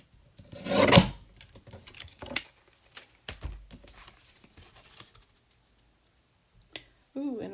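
A folded paper card has its crooked edge trimmed: a loud close cut or rasp of paper, then scattered lighter scrapes and taps, fading to near silence with a brief noise at the end.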